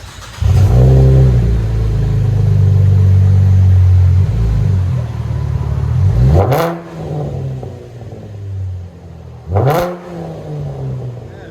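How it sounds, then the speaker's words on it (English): A 2012 Chevy Camaro RS V6 with Vibrant resonators and aftermarket mufflers idles with a deep, close rumble, then fires off two sharp throttle blips that rise and fall quickly, settling back to idle between them. "Mufflers, resonators, came out absolutely beautiful. V6 Camaro. We'll let you guys hear it in a second."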